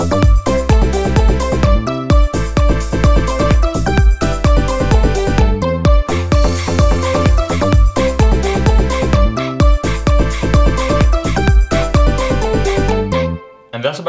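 An EDM drop built in GarageBand pounds with steady kicks, synths and crash cymbal hits at full volume before cutting out abruptly near the end.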